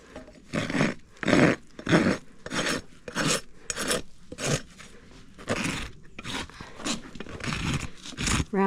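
A rasp filing the toe of a horse's hoof with a toe crack, beveling it in repeated rough strokes, loud and close, about a dozen rhythmic scrapes with brief pauses between.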